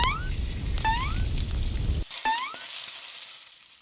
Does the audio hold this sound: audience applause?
no